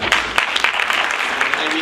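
Audience at an Africa Day celebration at Sol Plaatje University claps in a short burst of close, uneven applause, with voices and cheering mixed in.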